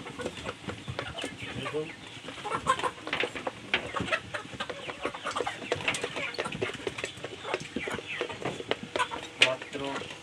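Sonali chickens on a poultry farm cluck and scratch about restlessly in a busy, uneven stream of bird sounds. Someone talks over them.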